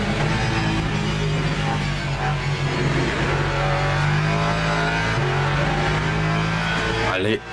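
A Lexus race car in the Le Mans Ultimate video game drones loudly and steadily with its engine revving through gear changes, the sound constant and close, while a person talks over it.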